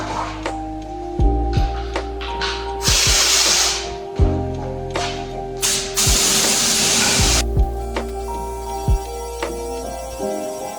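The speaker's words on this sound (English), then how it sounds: "I'm gonna spray" A cheap paint spray gun spraying a BMW car hisses in a few sharp bursts, two of them long and steady, over a mechanical hum and clicks.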